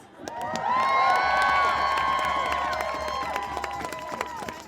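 A crowd cheers and whoops at an outdoor Women's March rally in Montpelier, Vermont, with sustained shouting voices and scattered clapping rising quickly and holding loud before easing off.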